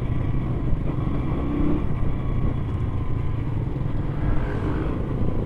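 Motorcycle riding along a rough mountain road toward Padre Pio Mountain of Healing in San Jose Del Monte, Bulacan, its engine a steady, close rumble that holds throughout with no talk.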